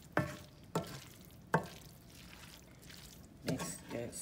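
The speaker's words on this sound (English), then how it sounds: "I'm gonna stir this up" Stirring veggie lo mein with sauce in a pan, with four sharp scraping strokes and a soft sizzle between them, up close and without talk.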